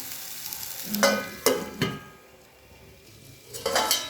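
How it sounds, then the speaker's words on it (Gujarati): A spoon stirs a turmeric and ghee mixture in a pan, giving a few close scraping clinks and soft sizzles in short bursts separated by quieter gaps. "હવે આપણે એને બરાબર હલાવી અને ઢાંકી લઈશું જ્યાં સુધી અંદરથી ઘી છૂટું ના પડે"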